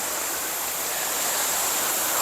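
Loud, continuous roar of Kham Hom waterfall in Sakon Nakhon, Thailand, a dense hiss of falling water close by with no voices.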